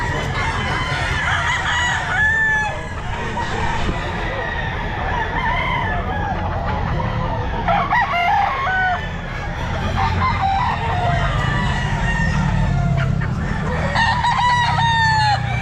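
A bull stag rooster crows repeatedly amid a busy pet market, with other fowl clucking and crowing around it and people talking in the background throughout.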